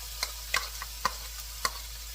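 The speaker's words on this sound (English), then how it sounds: "We're just going to let this cook for about 2 minutes until the onions have softened and become a little translucent." Garlic and onion fry gently in butter in a pan under a soft, even sizzle, with a few sharp utensil clicks and taps spaced irregularly.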